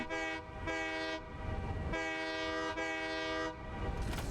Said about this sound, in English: You just gotta honk your horn long enough.